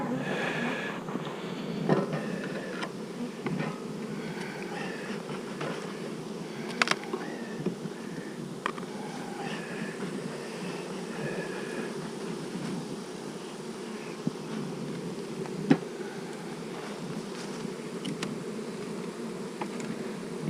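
A steady, low drone of many honeybees buzzing around an opened beehive, close and continuous, with occasional individual bees zipping past.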